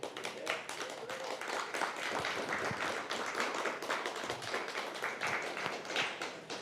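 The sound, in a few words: audience applause at a conference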